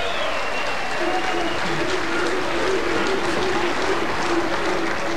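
Sustained applause from a crowd at a lawn bowls match, a dense, even patter that stays steady for several seconds. A commentator's voice runs faintly beneath it.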